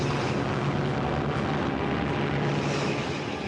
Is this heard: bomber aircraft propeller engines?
yes